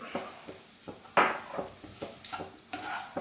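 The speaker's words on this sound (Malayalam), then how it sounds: "നന്നായിട്ടൊന്ന് മിക്സ് ചെയ്ത് കൊടുക്കാം" Spoon stirring a sauce mixture in a pan for a lunch box recipe, irregular close scraping and clinking strokes against the metal with a faint sizzle underneath.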